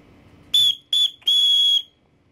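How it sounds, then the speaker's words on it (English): A small survival whistle from a paracord bracelet gives three loud, shrill blasts, two short and one longer, clear and close with nothing else behind them. "This paracord bracelet does come bundled also with a little whistle, which is pretty loud for what it is."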